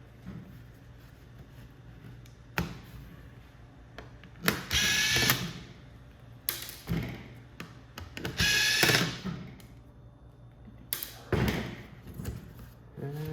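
A power drill whirs in several short bursts, removing screws around the battery of an Asus Chromebook, separated by pauses with faint handling noises and light clicks in between.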